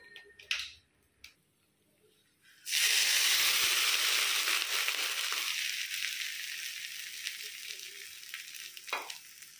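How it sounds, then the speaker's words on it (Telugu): Popu tempering of hot oil poured into a coriander tomato chutney, a few light clatters and then a sudden loud burst of sizzling that hisses strongly and slowly fades over several seconds, with no speech. "పోపు అందులో వేసేసుకుందాం."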